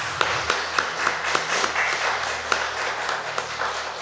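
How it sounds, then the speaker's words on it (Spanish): Audience applause at a Chilean arts and human-rights panel discussion, a modest spread of individual claps from a small crowd, fairly faint and sparse, steady for a few seconds, with no voices over it. "Le damos un aplauso a nuestra expositora."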